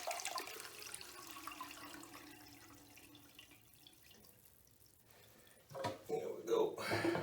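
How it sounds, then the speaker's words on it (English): A toilet is flushed a second time to empty its tank: a soft, distant rush of water swells and then fades, followed by a louder burst of splashing and refill noise near the end. "Now we're going to flush it again, try to get all the water out of the tank."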